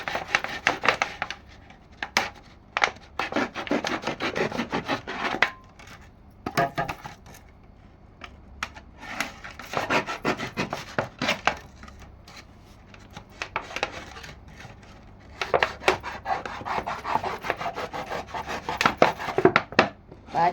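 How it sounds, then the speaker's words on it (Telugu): Plastic bottle being cut up to make a phone stand, with close, irregular bursts of scraping, rasping and chopping sounds separated by short quiet gaps, no talking. "బాటిల్ని అయితే కోస్తాను ఫ్రెండ్స్ బాటిల్ని కోస్తాను"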